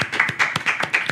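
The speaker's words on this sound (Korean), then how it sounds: "다시 한번 박수 칠까요?" Hand clapping in a small group during a Korean political commentary talk show, with sharp claps landing in an uneven, loose rhythm about five times a second, close and moderately loud, and no talk over it.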